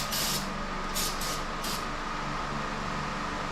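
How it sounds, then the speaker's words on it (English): Brake parts cleaner hisses from an aerosol can in several short bursts while working on a fuel-injected 2.3 Pinto, set against a constant loud background hum. "Brake part's cleaner."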